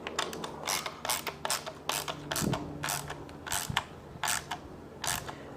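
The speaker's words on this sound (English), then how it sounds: "Then we tighten them down with the 10mm" A 10mm socket ratchet clicks in repeated short bursts while tightening bolts on a subwoofer bracket for a Ferrari 360/430 coupe, the creaking ratchet strokes coming close and fairly quiet with brief pauses between them.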